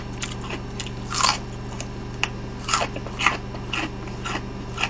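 Close biting and chewing of Pizza Hut Gold Rich pizza, with a few crisp crunches and soft mouth sounds at irregular moments over a steady low hum.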